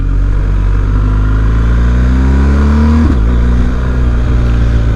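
A BMW R 1250 GS motorcycle engine drones steadily up close, its pitch climbing under load before a sudden dip and jolt around a harsh first-to-second gear change, then settling into a lower steady hum.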